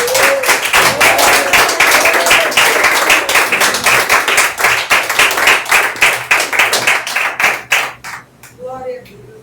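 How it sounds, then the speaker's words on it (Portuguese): A church congregation claps for Jesus with a loud burst of applause that settles into rhythmic, fairly fast unison clapping. It thins out near the end, and a voice is briefly heard. "E as palmas para Jesus."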